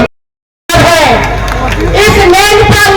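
Dense crowd noise at an independent candidate Nayanpal Rawat's election rally in Nainital, loud and continuous after a brief silence, with hubbub, voices and some cheering.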